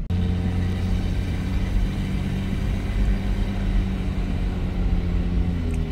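A car cruises steadily through a quiet neighborhood, its engine giving a low continuous rumble and drone from inside the cabin, with a single brief spoken word.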